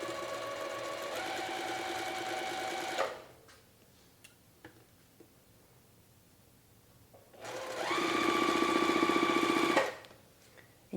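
Sewing machine chain piecing quilt block fabric at about a 2 to 2.5 mm stitch length, with two steady bursts of fast, humming stitching separated by a quiet pause holding a few faint clicks.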